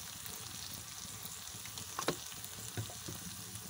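A sauce of chili sauce, soy sauce and vinegar sizzles quietly in a pan for red sauce pasta, a soft continuous frying hiss with a few faint clinks of a spoon stirring.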